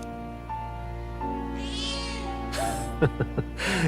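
A cat meows in the video game Dragon Age: The Veilguard: a few drawn-out, rising and falling meows, close and clear, over a steady low game soundtrack hum.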